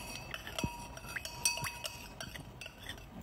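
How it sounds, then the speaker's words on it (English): Glass container of a homemade acne face wash mixture being stirred, with light clinks and scraping taps of the utensil against the glass, soft and close, repeated irregularly over a low background hiss. "So I'm just going to go ahead and stir everything nicely."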